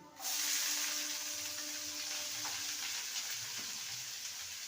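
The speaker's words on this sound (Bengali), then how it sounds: "পেঁয়াজটা ভেজে নেব হালকা" Chopped onions frying lightly in oil with garlic while bitter gourd is cooked, a continuous close hissing sizzle that holds steady throughout, without talk.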